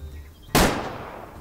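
A single sharp long-range rifle shot rings out in Way of the Hunter, a loud, sudden crack followed by a short fading echo after a quiet moment.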